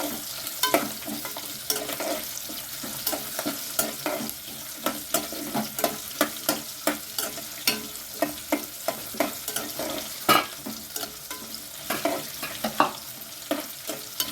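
Onions frying in oil for South Indian vegetable sambar, a steady sizzle broken by repeated sharp scraping clicks of stirring, close and alone without talk.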